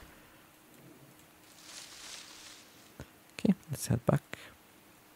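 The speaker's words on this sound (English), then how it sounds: "And it's actually raining." Rain falls on a tropical island in the video game Card Survival: Tropical Island, a faint, soft hiss in the background before a person speaks briefly over it.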